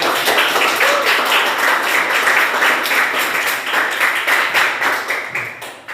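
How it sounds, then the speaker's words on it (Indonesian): A group of students clap their hands in a classroom at Universitas Mataram, a fairly loud, close patter of overlapping claps that thins out toward the end. "silakan tepuk tangan untuk kalian semua"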